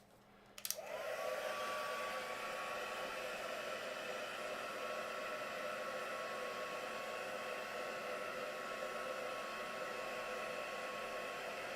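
A hair dryer switches on with a click and runs as a loud, steady whoosh with a faint whine, drying a freshly painted tree on a canvas, close and continuous with no voices.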